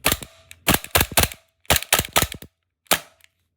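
Umarex VFC Glock 18c airsoft gas blowback pistol firing on semi-auto, a string of about ten sharp, close, loud snapping shots in quick bursts with short pauses between groups, no talking.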